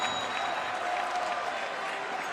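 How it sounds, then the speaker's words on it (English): A basketball crowd at a FIBA U17 World Cup semifinal between USA and Lithuania roars and applauds after an alley-oop dunk, a dense, steady wash of cheering filling the arena throughout. "just listen to the reaction from this crowd"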